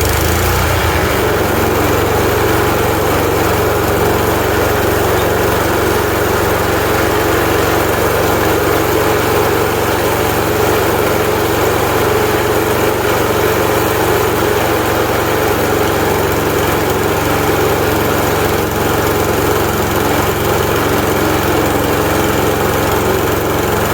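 A lawnmower engine, choke on, freshly freed from a seized state, runs steadily throughout at a loud idle with a constant droning hum and vibration, with no voices over it.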